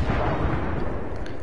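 An artillery barrage from Bangalore's ultimate in Apex Legends, heard as a dense, sustained roar of blasts and rumble that fills the whole moment, loud and continuous, with no talking.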